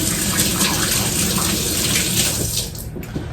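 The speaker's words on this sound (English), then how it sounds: "Let me wash my hands really fast." Water runs steadily from a kitchen tap as hands are washed beneath it, a continuous close splashing rush that eases slightly near the end, with no talking.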